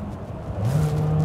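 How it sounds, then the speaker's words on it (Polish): Combustion engine of a Mercedes-Benz GLA 250e plug-in hybrid firing up under full-throttle kickdown while driving in electric mode, a low steady drone rising in pitch and loudness partway through, close and continuous. "mimo trybu w pełni elektrycznego, jak widzicie, uruchomił się silnik spalinowy przy kickdownie"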